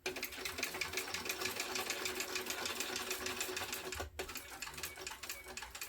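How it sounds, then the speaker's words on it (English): A sewing machine stitches around the edge of vinyl backpack material in a fast, steady rattling run, briefly pausing once before it resumes, close and clear. "I'm going to sew this around the whole edge"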